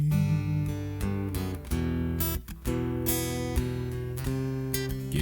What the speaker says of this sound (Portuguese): prefiro que você fique analisando o som do violão